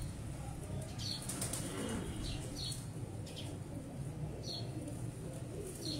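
Pigeons flap their wings in several soft, quick bursts, faint over a noisy background of low rumble.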